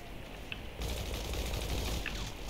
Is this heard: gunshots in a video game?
yes